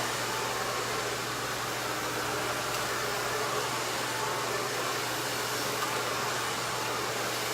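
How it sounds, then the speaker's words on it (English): A hair dryer blows with a constant, steady roar and a low hum underneath, loud and close, running without pause and with no talking. "It's a great dryer."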